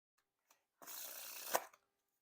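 A deck of Theory11 Dark Knight playing cards is faro shuffled, giving one close, crisp riffle of interlocking cards that lasts about a second and ends in a sharp snap, with a few soft handling taps before and after.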